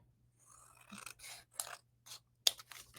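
Scissors trim a paper gift tag in several short snipping strokes spaced out over a quiet background, close by and fairly soft, with no voices.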